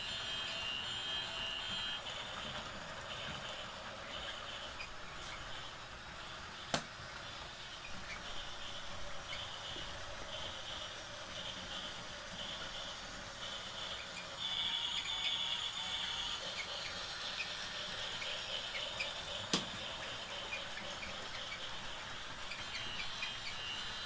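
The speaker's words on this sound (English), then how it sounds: "Here we are with the steam train running on the plastic track." A small near-S-gauge toy model steam train runs steadily on plastic track with a continuous whirring, rattling hum, broken by two sharp clicks; no voices.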